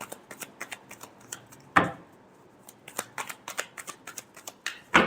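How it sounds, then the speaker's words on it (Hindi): Tarot cards being shuffled in a Hindi love reading, a rapid run of crisp riffling ticks and snaps with two louder slaps of the deck, close and clear with no talk. "Last shuffle."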